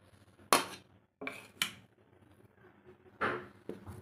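Coarse-ground batter for garelu is stirred in a metal bowl, giving a few sharp clinks and scrapes of utensil against the bowl at irregular intervals, close by in a quiet kitchen.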